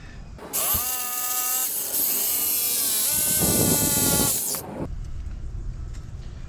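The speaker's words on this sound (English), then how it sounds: "So here's my CNC. The program is here, and this is the machine." A CNC machine cuts a carbon fiber part for a drag racing jet ski deck, giving a loud, steady high-pitched machining whine with tonal harmonics for about four seconds, then quieter background noise once the cut stops.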